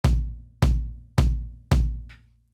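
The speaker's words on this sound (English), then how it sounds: "So this is the sound of the kick." Kick drum from a multitrack drum mix hit four times at a steady, even pace, each a loud, close, booming thump with a long decaying low ring, played alone.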